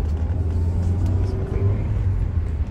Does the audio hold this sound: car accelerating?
yes